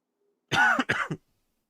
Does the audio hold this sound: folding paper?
no